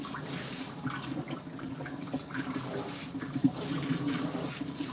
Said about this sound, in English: I'm trying to spray as close to the edge as possible without getting too